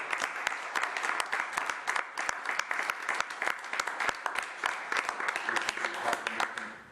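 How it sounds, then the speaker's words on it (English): An audience at a city commission meeting applauds an honoree, a sustained round of many hands clapping with sharp individual claps standing out, moderately distant and steady throughout. "So let's give him a round of applause."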